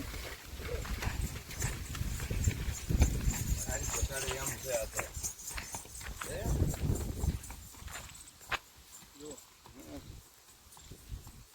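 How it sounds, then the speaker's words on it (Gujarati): A mare's hooves clip-clop in an uneven walking rhythm, fairly close, while someone talks over the steps for much of the stretch. "તો ફાઇનલી મિત્રો ઘોડી છોડી છે ને જો"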